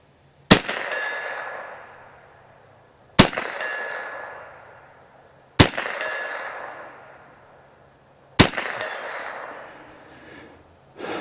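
Four evenly spaced, sharp rifle shots from an HK416 in .22lr, each followed by a bright ringing clang that fades out as the bullet strikes a steel target about 75 yards downrange.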